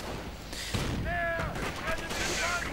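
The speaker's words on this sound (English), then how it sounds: "Second one moving in, firing a bit away with his 50mm cannon." A 50mm tank cannon fires in a WWII strategy video game, with booming shots and metallic clatter over a dense battle din, accompanied by faint whistling tones and other scattered explosions, all moderately loud.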